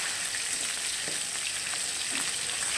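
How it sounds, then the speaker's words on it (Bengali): Fresh fish fillets frying in a pan, a steady bright sizzle of hot oil held close, with faint soft taps from turning the pieces. "এই মাছগুলোও হয়ে গেছে দেখো, 1 পিঠ ভাজা হয়ে গেছে"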